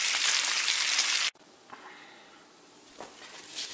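Bacon sizzles loudly in a pot over a cabin stove, a dense bright hiss that cuts off abruptly after about a second, leaving a faint, quieter background hiss.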